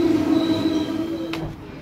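Interior of a moving train: a steady rumbling drone with tonal whine from the wheels and running gear, one brief sharp click partway through, no talking.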